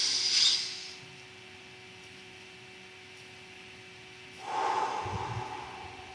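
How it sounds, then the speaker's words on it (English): A person takes deep breaths in and out as a relaxation exercise: one breathy exhale at the start, a quiet pause, then another audible breath near the end, close and alone. "Take 3 to 4 deep breaths in and out, like this."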